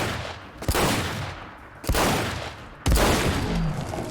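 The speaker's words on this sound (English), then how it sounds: "6 bullets to take down a Deathclaw. Let's see how we do" An Rsh-12 revolver fires at a Deathclaw in Fallout 4, three heavy, booming shots roughly a second apart, each with a long rumbling tail, loud and close.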